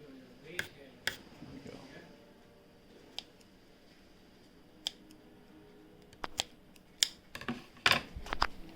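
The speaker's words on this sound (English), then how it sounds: "I'm just going to cut that leaf off" Scissors snip Thai basil leaves for propagation, giving sparse sharp clicks scattered through the quiet, with a faster cluster of snips near the end.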